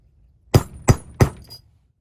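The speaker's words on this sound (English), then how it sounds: "That works just fine though. Good old nylon hammer from Harbor Freight." A Harbor Freight nylon hammer strikes three times in even succession, each blow sharp and close, followed by a fainter fourth tap, with silence before and after.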